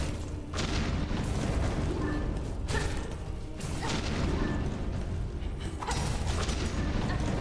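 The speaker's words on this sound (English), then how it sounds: "Man, that explosion is so big" Large explosions in Hollow Knight: Silksong, a series of heavy booming blasts with crashing, creaking debris that come in loud repeated bursts and fill the scene with dense rumble.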